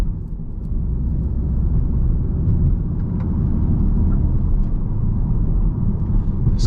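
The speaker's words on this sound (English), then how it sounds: "we'll give it one last acceleration" A 2021 Audi TTS engine pulls uphill under acceleration, heard from inside the cabin as a steady, loud low rumble with road noise, holding fairly even with no clear gear change.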